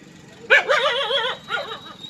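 A dog gives drawn-out, wavering barking cries, one long burst followed by a shorter one, loud and close.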